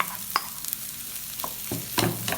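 Boiled, mashed potato tipped into sautéed onions in a pan for potato bonda filling, with a few sharp stirring scrapes and soft sizzle, close up, no talking.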